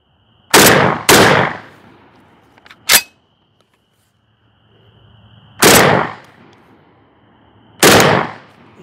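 A Hatsan Bulltac semi-automatic air rifle fires five sharp, loud cracks: a quick pair, a single shot, then two more spaced a few seconds apart, with quiet background between them.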